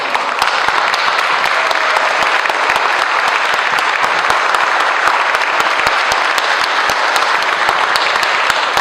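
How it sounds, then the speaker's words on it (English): An audience at a 2012 law enforcement salute event applauds a student's award, a loud, dense, continuous clapping that holds steady for several seconds with no talk. "big round of applause for this is Jessica Martinez."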